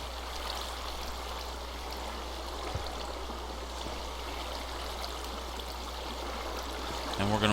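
Water pouring from a source block in the Minecraft modpack Agrarian Skies 2, a steady continuous stream-like rush that holds at moderate level throughout, with a faint click near the end.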